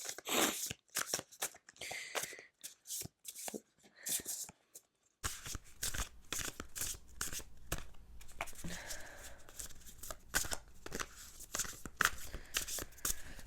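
A deck of cards shuffled up close in repeated crisp riffling and snapping bursts, separated by short pauses, with no voices.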